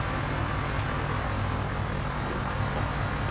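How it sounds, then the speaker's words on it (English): A Fiat tractor engine in the video game Farming Simulator 19 hums at a steady, loud drone with a constant low rumble and no variation throughout. "but the engine running was the Fiat here."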